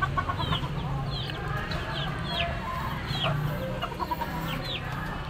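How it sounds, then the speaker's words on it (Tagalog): Caged egg-laying hens in a coop cluck repeatedly in short, scattered bursts. The clucking is moderately close and sits over a steady low murmur. "Mga manok nakakulong dito."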